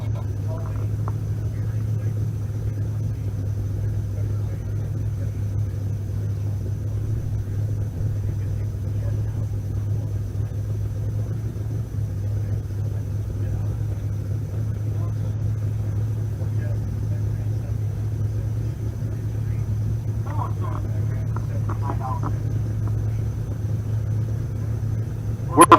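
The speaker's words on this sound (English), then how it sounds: "I hear engines running." Race car engines run at Pueblo Motorsports Park as a steady, distant low drone that holds throughout, with faint voices occasionally audible over it.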